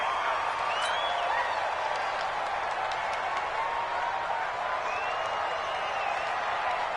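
A loud stadium crowd roars steadily at an Eagles vs. Vikings football game, a dense, continuous wash of cheering and applause with faint voices rising above it.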